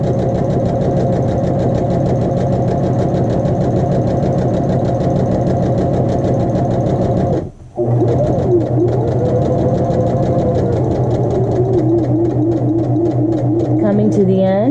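Steady, fast rhythmic hum of a sewing machine stitching muslin fabric along a bias line, running nearly continuously with a brief pause midway, then slowing toward the end.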